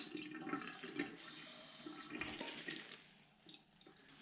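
Water rinsing out a container used for growing copper sulfate crystals, a faint splashing and gurgling rush that swells and ebbs over a few seconds.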